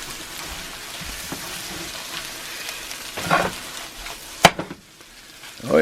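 Breakfast burrito filling of eggs and meat sizzling steadily in a cast iron pan after the heat is turned off, a soft continuous crackle broken by a few sharp utensil clinks near the end.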